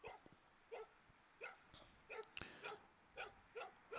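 A loose dog outdoors barks repeatedly, about seven sharp, fairly evenly spaced barks at moderate distance, with no talking in between.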